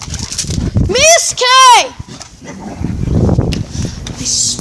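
Pet dogs indoors give a couple of loud, drawn-out whining yelps near the start, then fainter rustling and scuffling while a voice calls out over them.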